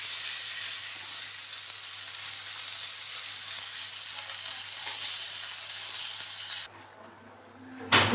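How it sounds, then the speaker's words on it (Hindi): Pointed gourd (parwal) pieces sizzle steadily in a frying pan over a medium flame, a dense continuous crackle that cuts off abruptly near the end, followed by brief quiet and a short clatter as the pieces are turned. "अलट पलट के हम परवल को फ्राई कर लेंगे।"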